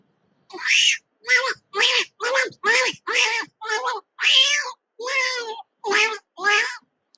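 A human voice mimics fighting cats with a run of about eleven loud, drawn-out yowls and wails in quick succession, close and alone, performed by a mimicry artist.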